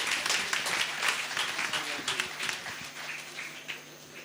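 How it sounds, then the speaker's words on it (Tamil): Audience applause at a Rotary Club of Vellore South installation function, a fairly faint wash of clapping that gradually tapers off. "அனைவரும் கரகோஷம் எழுப்புமாறு அன்போடு கேட்டுக்கொள்கிறேன்"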